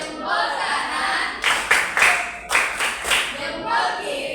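Schoolchildren in a classroom perform the rhythmic 'tepuk hebat' clap, a series of loud clustered clap bursts in a set pattern, accompanied by chanting voices.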